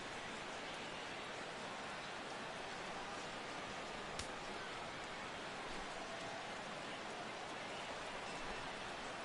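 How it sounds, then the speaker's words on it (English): Steady rain falls at a ballpark during a Brewers–Reds baseball game, a constant broadband hiss with no distinct drops, even and unbroken throughout. "The rain, as we've mentioned, coming down fairly steadily here at game time."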